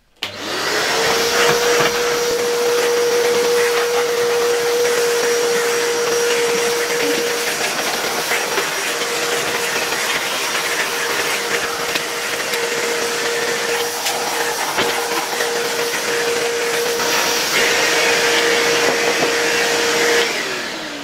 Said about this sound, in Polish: Ja sobie tutaj już przyniosłem odkurzacz i najpierw spróbujemy tę obudowę odkurzacza odkurzyć.